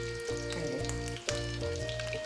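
Potatoes fry in ghee for an aloo anday dish, giving a close, steady sizzle with crackly bursts and a brief dip as the pan is stirred.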